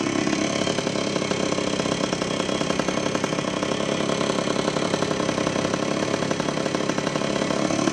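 A 1976 Honda Elsinore CR125R two-stroke motocross bike idles steadily, its buzzing, rapid-fire engine note close, loud and even throughout with no voices.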